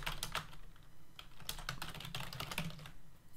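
Keys clatter on a computer keyboard in irregular bursts of quick taps, close but quiet, as someone writes GameMaker code.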